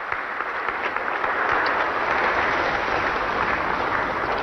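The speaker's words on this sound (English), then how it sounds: "And a round of applause for Pope Francis" Steady, full applause from assembled bishops and priests at a meeting with Pope Francis in Thailand, a dense continuous wash of clapping filling a large hall without letup.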